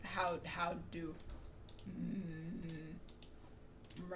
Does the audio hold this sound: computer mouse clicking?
yes